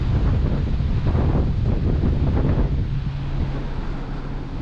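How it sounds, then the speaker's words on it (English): A 10–15 mph breeze blows across the deck of the ocean liner Queen Mary at sea, wind buffeting the microphone in loud rough gusts with a steady rush underneath and no talking. "it's a little bit breezy today, probably about a 10-15 mile an hour wind"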